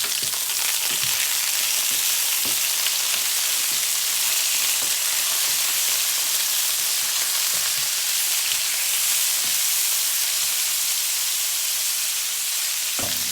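Duck meat frying in its own rendered fat while being stirred in a pan, a steady dense sizzle with occasional scraping stirs and soft pops, close and continuous.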